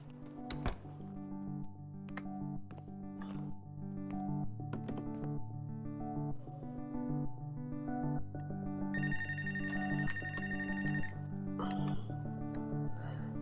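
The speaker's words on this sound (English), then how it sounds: "I knew the minute I went to go do something, the phone would ring." A telephone rings over steady background music, its bright, sustained tone standing out clearly for a couple of seconds partway through.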